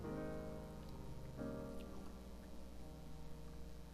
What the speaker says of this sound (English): The rain intensified